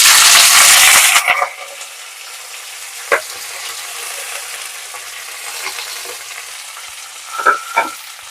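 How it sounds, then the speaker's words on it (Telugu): Mustard seeds, cumin, onions, green chillies and curry leaves hit hot oil in a tempering with a loud burst of sizzling, which settles into a quieter fry with a few sharp pops and stirring clinks, no talking. "ఆవాలు జీలకర్ర కూడా చిట్పట్లాడుతున్నాయి ఈ టైంలో ఈ ఉల్లిపాయలు పచ్చిమిర్చి కరివేపాకు వేసేసుకున్నాను"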